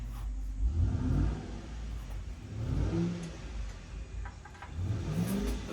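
A neighbor's Ford Mustang, likely a V6, revs in a series of rising engine bursts that fall away between pulls, heard at a moderate distance with steady background rumble.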